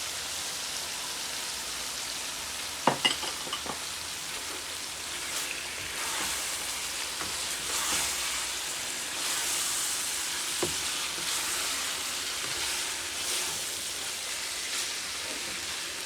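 Tomatoes frying in keema masala, a steady close sizzle and crackle with occasional clicks of stirring, continuous and without voices.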